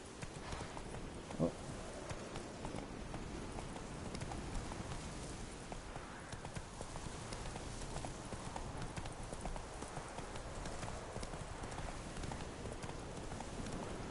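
A horse gallops in The Witcher 3, its hoofbeats a steady, fairly quiet rhythmic pounding that runs throughout, with a brief exclamation from a voice early on.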